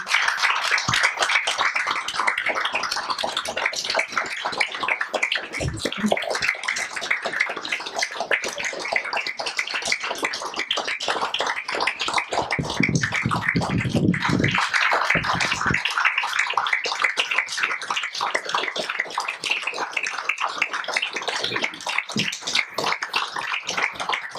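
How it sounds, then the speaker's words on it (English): Scattered applause from an audience at the closing session of a Tibetan heritage festival, a fairly quiet wash of claps with individual hand strikes standing out and a short fuller burst near the middle. "Please give a round of applause to them who have worked and effortlessly."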